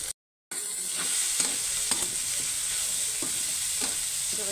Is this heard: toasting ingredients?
yes